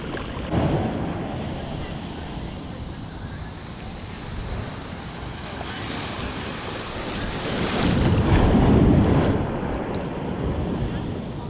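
Ocean waves wash onto a beach in a broad, continuous roar with wind buffeting the microphone, swelling louder as a larger surge breaks near the end.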